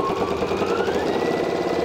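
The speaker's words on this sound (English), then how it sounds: "Just sew to the end of the piece of fabric that you're working with." Sewing machine stitching rows of quilt fabric, a steady fast mechanical whirring hum with rapid needle chatter, continuous and close for about two seconds.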